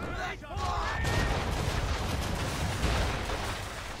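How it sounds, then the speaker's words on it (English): Ship cannons firing a broadside in Assassin's Creed 3 during target practice, heard as a sustained, heavy rumbling barrage that stays loud for several seconds, with a voice briefly at the start. "they're the most inaccurate cannon fires ever"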